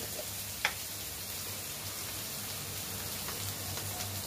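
Ginger garlic paste sizzles in a pan with frying onions, a steady close hiss with small pops and a brief stir-like knock near the start.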